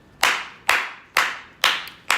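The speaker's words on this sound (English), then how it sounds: "I'm clapping today, baby" A single person claps hands in a podcast studio with five sharp, close, loud claps evenly spaced about half a second apart, and no talking.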